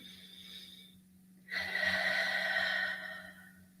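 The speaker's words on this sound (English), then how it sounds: "Just keep breathing with me. Another deep breath in." Deep breathing during a guided meditation: a quiet stretch, then a long, fairly close breath that swells for about a second and a half and fades slowly, with a steady low hum underneath.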